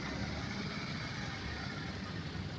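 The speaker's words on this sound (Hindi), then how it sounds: "अब मेरा गाड़ी पीछे जा रहा है" A car reverses in back gear as the clutch is slowly released, its engine a low, steady idle-like rumble heard from inside, quiet and unchanging, with no talking.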